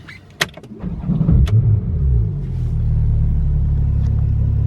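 A 2017 Porsche 911 Turbo S pulls away, a few clicks and thumps giving way to a deep, steady engine rumble that builds and then holds at a loud, even drone, with no talking.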